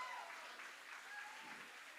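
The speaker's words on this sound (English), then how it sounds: "Give them a round of applause." Faint, distant applause from a gala audience for a Gigi's Playhouse crew, a soft even wash of clapping lasting about two seconds.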